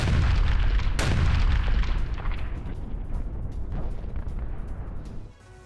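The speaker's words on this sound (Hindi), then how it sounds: "T-90 टैंक जिससे हमला बोला जा रहा था, उसको निशाना बनाया गया और टारगेट करने के बाद यह हमला किया गया" A T-90 tank under attack and burning amid heavy booms: dense, loud rumbling blasts with a sharp explosive crack early, followed by continuous roaring fire and battlefield noise that thins out at the end.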